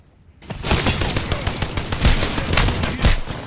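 Loud, sustained automatic gunfire in Call of Duty, a dense stream of overlapping shots that begins after a short quiet opening and carries on to the end.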